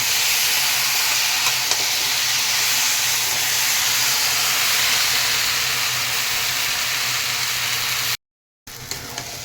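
Taro leaves (kochu shak) sizzle steadily in a hot pan as they are stirred, a loud, continuous broadband hiss with faint scraping, cutting out briefly near the end before resuming.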